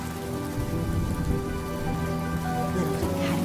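Steady rain falls in Penacony in the game Honkai: Star Rail, a dense, even patter on surfaces that holds constant for a few seconds with no voices over it.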